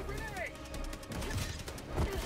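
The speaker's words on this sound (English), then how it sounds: "Holy shit, that mortar's awfully close." A mortar blast in Helldivers 2 lands close by, a dense burst of rumbling, crackling detonation noise that fills the clip under background game sounds and music.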